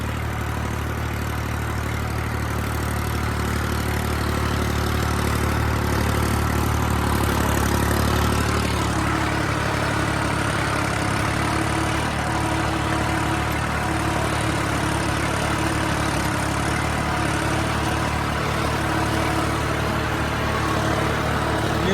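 A New Holland tractor's diesel engine idles and runs at a steady drone for the whole stretch, close and loud, with a slight change in tone partway through and no talking.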